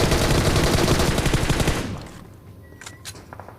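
Rapid automatic gunfire in the mobile battle royale PUBG Mobile as the last enemy is taken down, a dense, loud burst of rattling shots that quickly thins into a few scattered, fainter pops.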